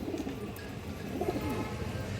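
A pigeon coos softly in a low, muffled warble, faint and close, against a quiet background.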